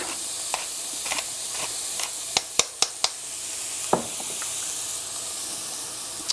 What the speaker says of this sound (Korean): 뜨거울 때 얼른 볶아요